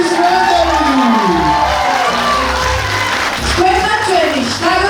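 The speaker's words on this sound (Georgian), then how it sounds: "კიდევ ერთხელ გუხარი აპლოდისმენტები!" Audience applause and cheering after a children's theatre performance in Batumi: a steady, loud wash of clapping with whoops and raised voices throughout.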